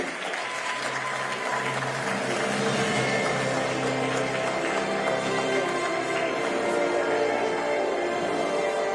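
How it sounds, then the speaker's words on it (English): An audience at the annual Houston Humanitarian Awards gives a steady, full round of applause, dense clapping sustained evenly from start to finish without talk. "Let's give him a round of applause"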